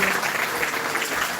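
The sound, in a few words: audience applause for a speaker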